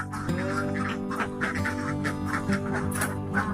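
Laying ducks quack repeatedly in a flock, a dense chorus of nasal calls overlapping close by, continuous and fairly loud with no talk.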